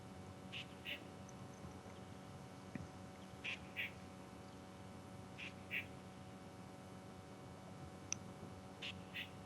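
Ducks quacking as they fly in to decoys in theHunter: Call of the Wild, Peru reserve; short grouped quacks repeat every second or two at moderate distance over a steady low ambient hum, with no talking.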